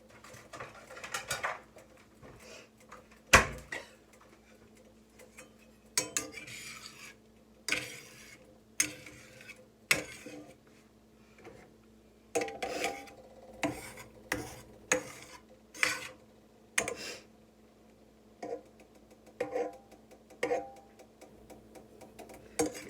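Spatula scraping scrambled eggs across the bottom of a skillet, a series of short regular scrapes and taps close up, roughly one every second, with light talk in the background.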